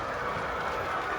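A PRR E7A Legacy model train locomotive runs on its track, giving a brief, steady rumbling whir with a faint rhythmic clatter for just over a second, with no voices.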